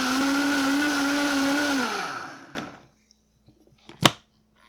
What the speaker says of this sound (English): blender that produces heat as it blends